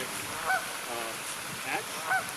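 Waterfowl at a park give a few brief honking calls at moderate distance over steady outdoor background noise, spaced a second or so apart.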